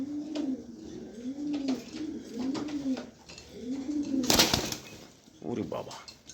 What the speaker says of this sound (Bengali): দেখেন কবুতরটা, দেখেন